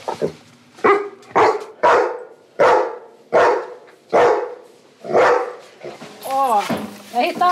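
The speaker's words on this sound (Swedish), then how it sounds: "Han lägger sig ner och skäller och sen så skäller han tittandes mot där han känner den här doften då." A police search dog barks repeatedly after finding a scent, about eight loud, close barks at an even rhythm, with a whine or yip near the end and a person talking between them.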